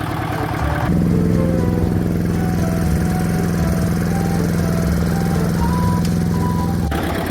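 A walking tractor (power tiller) engine running close by, a steady loud chugging idle with a rattling, clattering rhythm throughout, rising slightly in intensity after the first second and dropping off near the end.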